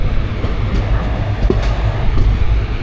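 The Thiruvananthapuram North–Sri Ganganagar Express rolls past in India, a loud, close low rumble of rail cars with faint rhythmic clatter and a brief squeak near the middle, with no talking.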